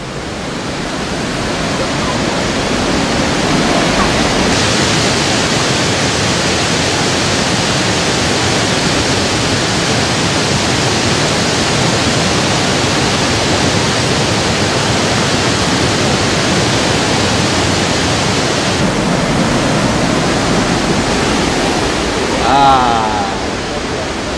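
A roaring waterfall in Argentina fills the air with a loud, unbroken wall of rushing water that holds steady from start to finish, close and overwhelming, with no voices standing out above it.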